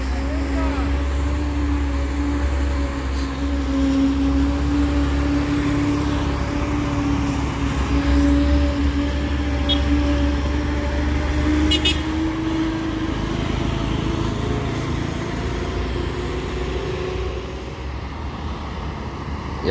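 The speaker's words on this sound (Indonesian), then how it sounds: "ini ada truk Fuso box dengan Fuso bermuatan ya" A loaded Fuso box truck labouring along a hilly road, its engine a steady low drone with a rising whine, passing close and fading slightly toward the end.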